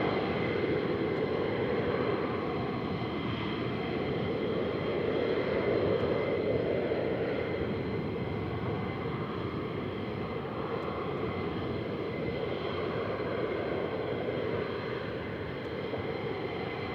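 Military jets climbing out at RAF Lakenheath produce a sustained, loud, broad engine roar that holds steady for the whole stretch, with no voices over it.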